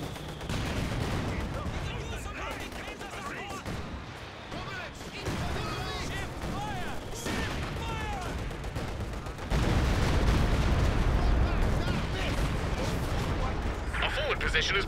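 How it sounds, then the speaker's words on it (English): Incendiary artillery fire in the World War II strategy game Company of Heroes 2, with booming shell blasts and crackling battle noise throughout, growing louder toward the end, mixed with a player talking. "I'm gonna order some more incendiary artillery."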